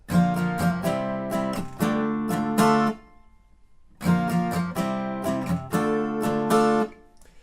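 Acoustic guitar strums the chorus chords of a song in a steady down-up pattern, two bright strummed phrases separated by a brief pause, played alone and close.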